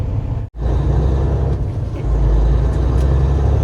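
Bobtail semi truck driving on a snowy winter road, a steady loud low engine drone heard from the cab, dropping out briefly near the start and then going on continuously, with no talk.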